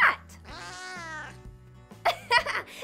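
A cat meows in a long drawn-out cry, followed by a few shorter meows over a soft background tune in a children's colour-learning piece.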